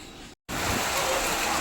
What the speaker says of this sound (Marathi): खूप मुसळधार पाऊस बाहेर पडत होता